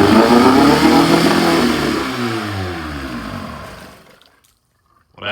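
A 1960s outboard boat motor fires up and revs hard with rising and falling engine tones, then cuts out into near silence before briefly catching again at the very end.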